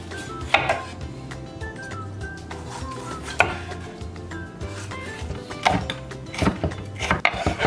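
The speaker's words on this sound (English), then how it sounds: "we slice pepper" A knife slicing through a bell pepper on a board while preparing vegetables for marinated cabbage, giving scattered sharp cuts and knocks among light kitchen clatter of dishes and utensils.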